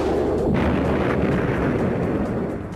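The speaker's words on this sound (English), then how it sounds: "the number one weapon of choice of an A-10 pilot is going to be their gun" An A-10 Thunderbolt II aircraft firing its gun, heard as a loud, continuous roaring burst lasting nearly three seconds that tapers slightly at the end, with no talking.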